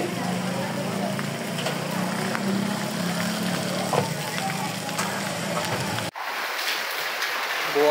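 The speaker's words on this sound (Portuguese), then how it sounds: "Chuvinha boa, Barra de Santa Rosa." Heavy rain falls in Barra de Santa Rosa with a dense, steady hiss and patter close by, then an abrupt cut leaves a thinner, brighter rain wash for the final seconds.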